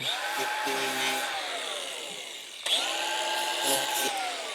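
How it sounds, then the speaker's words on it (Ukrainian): An angle grinder whines at a high pitch, winding down and restarting midway, its tone sliding as it cuts through packing tape; steady and close. "я ріжу скотч болгаркою"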